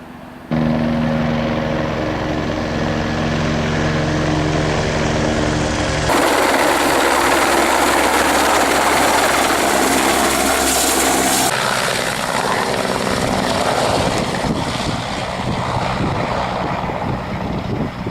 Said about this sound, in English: so the helicopter just went by